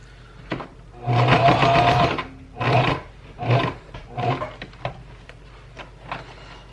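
A sewing machine stitching fabric in short bursts close up. One longer run is followed by several brief runs and separate mechanical clicks.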